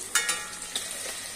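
Backwater fish frying in a pan of hot oil for a Thrissur-style coconut milk dish, a soft steady sizzle with a few sharp crackling pops and stirring scrapes, close by and with no voices.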